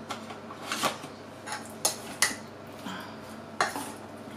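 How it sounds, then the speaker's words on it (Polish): A teaspoon of potato starch sifted through a small kitchen sieve while baking a rhubarb crumble shortcrust cake, heard as a series of light metallic taps and scrapes of spoon on sieve, close and fairly quiet. "Małe siteczko. Daję tutaj taką nieczubatą łyżeczkę mąki ziemniaczanej."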